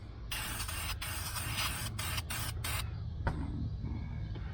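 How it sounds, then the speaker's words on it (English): Aerosol header paint is sprayed onto exhaust welds on a 1977 Chevrolet Malibu Classic, giving several sustained close hissing bursts, some long and some short, separated by brief pauses, with a steady low rumble underneath. "I just started spraying some around the welds"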